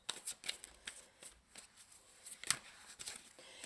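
Tarot cards shuffled during a reading give quick papery riffles and soft slaps, several short bursts spread across a few seconds, close and fairly quiet with no talking.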